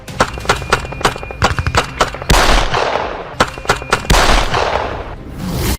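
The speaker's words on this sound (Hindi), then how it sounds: "थाने के सामने अंधाधुंध फायरिंग। स्कॉर्पियो सवार 7 लोगों पर ताबड़तोड़ फायरिंग।" Rapid volleys of gunfire ring out in front of a police station in Haryana, where seven men in a Scorpio fire indiscriminately, about 30 rounds in total. The shots are loud, sharp and clustered in bursts, with dense crackling stretches between them.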